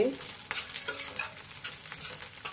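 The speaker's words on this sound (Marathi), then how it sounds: "आता तळतळ आवाज यायला लागलाय" Wheat ear shira roasts in a pan, giving a soft crackling sizzle with scattered stirring scrapes and small bursts, fairly quiet and close.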